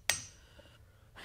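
A bearing is tapped into place on a 98-year-old bandsaw using a small pipe, giving one sharp metallic knock followed by a faint ringing decay and a softer scrape at the end.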